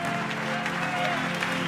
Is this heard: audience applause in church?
yes